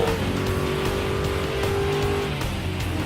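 Group 4 entry-level race cars, such as the Mustang, Vantage and NSX Group 4, drive in Gran Turismo Sport. A loud, steady engine drone holds a sustained pitch throughout, with a faint hint of tire noise.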